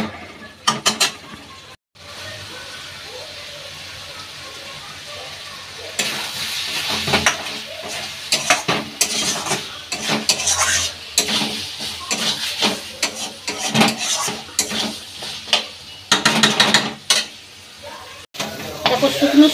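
Mutton curry masala stir-fried in a wok with potatoes, repeated loud scraping and clanking strokes of the spatula over a frying sizzle, close and busy, after a quieter opening stretch.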